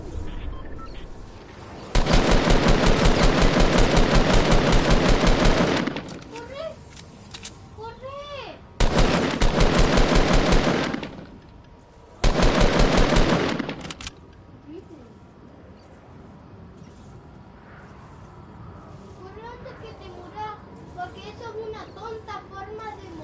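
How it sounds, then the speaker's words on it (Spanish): Long bursts of rapid automatic gunfire in Fortnite crackle loudly in three stretches, separated by pauses, while young voices chatter underneath and continue after the shooting stops. "Escucho tiros."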